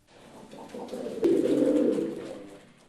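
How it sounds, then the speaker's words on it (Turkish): Kelkit crested pigeon cooing close by, a soft low rolling coo that swells and fades over a few seconds, alone without talk. "Bahsedilen güvercin Kelkit tepelisi."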